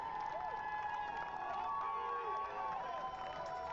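Spectators cheer along the course at the Rotterdam Marathon finish. The cheering forms a steady, distant-sounding crowd roar with whistles and shouts mixed in and stays constant throughout.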